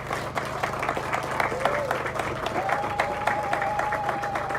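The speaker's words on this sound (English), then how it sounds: "So we just want to clap hands just for a minute, just to appreciate what they've done." A crowd at the official reopening of the Mbare swimming pool applauds, steady dense clapping held for several seconds, while a voice carries faintly under it.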